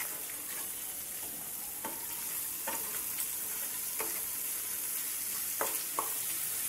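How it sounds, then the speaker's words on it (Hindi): Cabbage kofta mixture fries and sizzles steadily in a pan, with a continuous hiss broken by occasional scrapes and knocks of a spoon stirring through it. "और अब इसे अच्छे तरीके से इस तरह से इसे फ्राई कर लेना है।"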